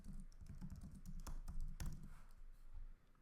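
Quick keystrokes on a computer keyboard, a short run of soft close taps with a couple of firmer key presses, fairly quiet.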